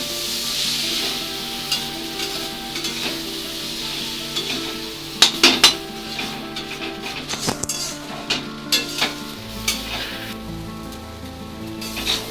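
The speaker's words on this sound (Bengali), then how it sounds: "চালটা আমি আবার ভালোভাবে একটু কষিয়ে নেব।" Rice coated in spices and ground coriander sizzles steadily in a hot pan while a spatula scrapes and clinks against the metal in irregular bursts, close and fairly loud, with no talking.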